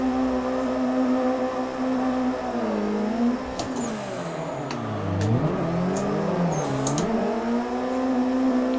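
Drift car engine revving during a tandem drift, a sustained loud engine note that dips and climbs through several rev swings with brief higher squeals mixed in.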